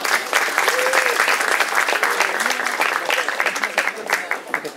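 Conference audience at a US Embassy Jakarta tech event applauds the opening speaker, a few seconds of steady clapping with voices under it, thinning toward the end.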